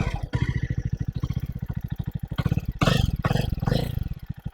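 A 2019 Jawa Classic motorcycle with twin silencers fires up and settles into a loud, close, rapid thumping idle, with a couple of brief throttle blips.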